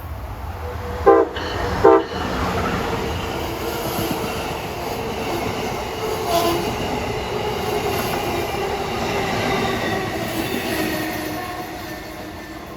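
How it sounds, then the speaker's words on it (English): Amtrak train 181 rushes past on the rail line, a loud, continuous roar of wheels and cars with two sharp horn blasts early on, sustained rumble throughout. "Approaching now at 6:58 is train 181, running about 10 minutes late at least."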